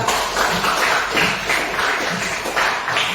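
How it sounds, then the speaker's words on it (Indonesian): Hands clap together in a classroom in loose, rhythmic bursts. The steady, fairly close applause rises and falls in waves for a few seconds. "Silakan kasih tepuk tangan untuk kita semua."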